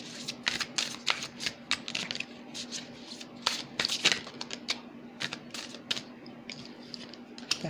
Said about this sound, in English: Just keep shuffling.